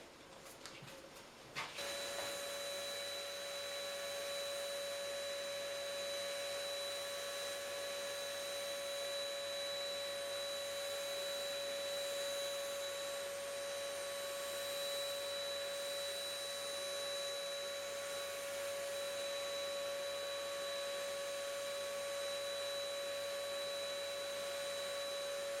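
An HVLP paint sprayer applying shellac finish to a wooden nightstand starts up after a brief noisy moment and then runs with a steady, continuous high-pitched whine and hum, unchanging for over twenty seconds.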